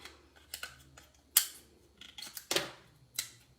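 Scissors snipping to free stubborn magnets from a DIY chocolate box, a few sharp close cuts scattered among quieter handling clicks and rustles.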